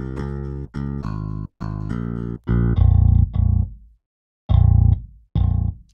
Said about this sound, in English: play it without the Ampire so you can hear just the raw DI sound of this instrument